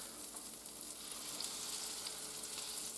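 Beef searing in a hot pan gives a steady, dense sizzle of fat frying, close and even, quiet overall and with no talking.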